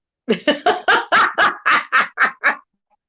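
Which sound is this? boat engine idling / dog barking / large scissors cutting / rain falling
dog barking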